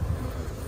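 Honey bees buzzing at a strong hive on a farm, a brief steady drone of many wings heard up close.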